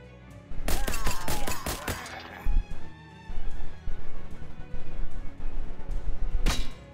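Gunfire in the video game Shadows Over Loathing: a rapid burst of sharp shots early on, then a string of repeated thumping hits and a final loud crack, with no speech.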